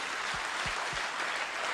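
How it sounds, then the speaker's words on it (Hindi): A room of attendees at a self-development training session gives sustained applause, a dense, steady wash of clapping at moderate level with a few low thumps near the start. "जोरदार तालियां सबके लिए, जोरदार तालियां।"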